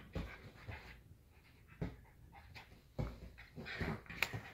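Dog panting and whimpering nearby, soft irregular breaths with a few faint whines and brief louder bursts, alone and quiet.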